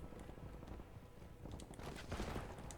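Gunfire in a Call of Duty Warzone battle royale match, a short rattle of rapid shots and bursts with some distance to it, moderately loud with no speech.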